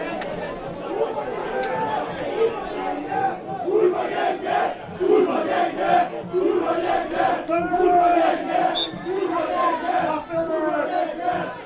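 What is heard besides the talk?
football stadium crowd chanting at the team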